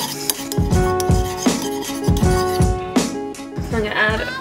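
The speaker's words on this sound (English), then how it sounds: "You can stir it all up." A spoon stirs a salad dressing of olive oil, white wine vinegar and balsamic in a bowl, producing close, rhythmic ringing clinks about every half second.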